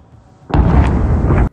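A single sudden, loud blast from a drone strike in Chernihiv roars for about a second and then cuts off, with no voices.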